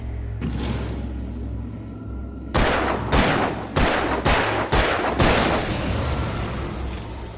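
Several loud gunshots ring out in the video game Alan Wake, five or six sharp blasts in an uneven sequence over a low droning game soundscape, each shot leaving a short decaying tail.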